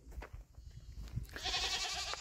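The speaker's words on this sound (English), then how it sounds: "Hear the goats in the background." Goats bleating on an off-grid homestead, a short run of clear, wavering bleats rising in the second half over low background rumble and scattered thumps, fairly close and loud with no talk.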